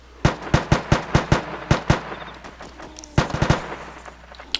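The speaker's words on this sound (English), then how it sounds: "Man, that gunshot, those gunfires are coming from so close now." Video game gunfire cracks out in a quick burst of about ten sharp shots, a pause, then another tight volley of four, fairly loud against a faint steady background hum.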